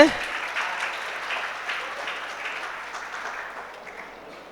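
An audience at a school prize event applauds students, a broad, even patter of many hands clapping at moderate volume, steady at first and slowly fading toward the end.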